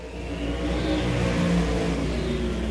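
Stock cars race on the 4/10 mile Smoky Mountain Speedway, their engines a steady, loud, sustained roar with harmonic drone as cars run down the straight during qualifying.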